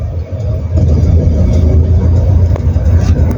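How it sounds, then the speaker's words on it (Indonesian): A car engine rumbles low and steady close by, rising slightly as the clutch is eased out and throttle is fed in gently, a dense continuous growl without speech. "aku lepaskan koplingnya dan aku tambahin gasnya secara perlahan"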